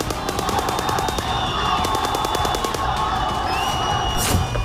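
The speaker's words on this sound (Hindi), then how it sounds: "तस्वीरें यरूशलेम के एक चेक पॉइंट की है जहां दोनों ओर से जबरदस्त गोलीबारी" Heavy two-sided gunfire at a Jerusalem checkpoint, in news footage: rapid automatic bursts crack in regular rhythmic volleys, fairly near and loud, over a busy background of distant shouting and crowd noise.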